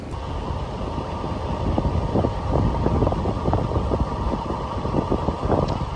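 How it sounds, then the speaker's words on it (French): Wind noise buffeting the microphone while cycling a long ultra-distance winter ride in France: a continuous loud rumbling roar with gusty flutter, alone and without voices. "Parce que le vent c'est chiant."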